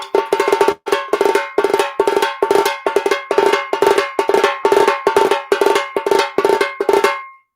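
Sharp, bright tassa drum strokes in an uneven pattern broken by short rolls of quick hits, loud and close, with no voices.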